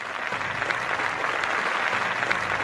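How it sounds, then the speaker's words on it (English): A crowd claps in steady, dense applause that holds at an even level throughout, with no voices standing out. "Round of applause."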